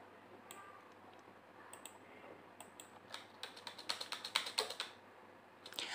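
A name is typed on a computer keyboard in a quiet room, with a scatter of key clicks that quickens into a dense run of close, crisp taps near the end.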